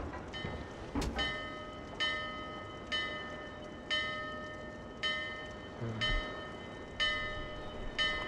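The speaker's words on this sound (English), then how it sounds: "The bell caused a cutscene." A bell tolls in Dark Souls 2, struck slowly and evenly about once a second, each ring leaving a bright lingering tone over a dull rumbling background.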